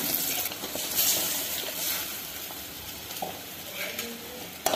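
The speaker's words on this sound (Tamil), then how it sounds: "இப்போ மசாலா நல்லா கொதிக்குதுங்க." Thick masala for beach sundal bubbles and sizzles steadily in a pan, with occasional spoon scrapes and stirring over a constant hiss.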